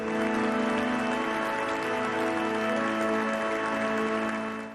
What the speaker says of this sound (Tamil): இந்த தருணத்தின் முக்கியத்துவம் உற்சாகமான கைத்தட்டல்களை உருவாக்கியது.